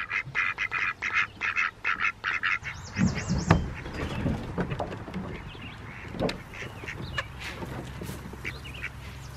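Ducks on a farm quack in a quick series of loud, rhythmic bursts close by, then give scattered softer calls over outdoor background noise.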